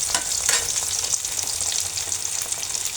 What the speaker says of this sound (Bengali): আদা বাটা, রসুন বাটা আর পেঁয়াজ বাটা একটু কষিয়ে নিয়েছি। এখানে কেটে রাখা টমেটোগুলো দিয়ে দিচ্ছি।